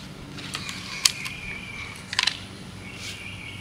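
A Ballista Mega Bat crossbow being cocked with its built-in self-retracting cord tensioner produces a few sharp mechanical clicks and a quick ratcheting burst over a low, quiet background.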